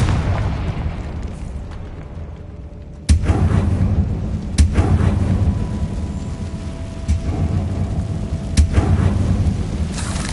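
Confringo spell blasts in the video game Hogwarts Legacy hit as several sharp, heavy booms spaced a few seconds apart, each followed by a rumbling tail over a steady background of combat noise.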